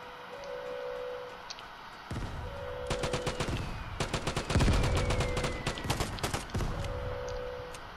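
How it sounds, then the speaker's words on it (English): Gunfire in the video game Vigor as players shoot a lock off: bursts of rapid, sharp shots start partway through and go on in clustered volleys, loud and close, with short gaps between them. "We're shooting another lock off."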